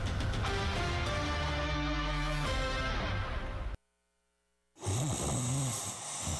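A person snores loudly and close up in a mattress store advertisement, with long, rough, rumbling breaths. A moment of near silence follows, then the snoring starts again.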